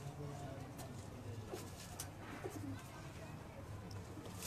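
Pipe-breed pigeon on a rooftop loft in Gujranwala, cooing softly in low repeated murmurs amid steady background noise and nearby voices.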